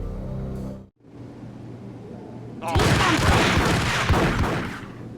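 Gunfire in Max Payne, a sudden loud burst of rapid shots erupting after a brief drop to silence and continuing heavily to the end, with game dialogue beneath.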